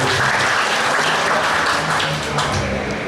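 A church congregation applauds in worship at the inauguration of a new church in a mall, a loud, full round of clapping with some low voices and murmurs beneath it.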